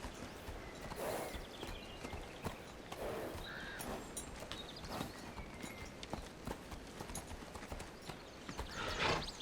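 A horse being worked by a cowboy walks on firm ground, hooves clip-clopping in an uneven, close but faint rhythm, with a snort or brief stir near the end.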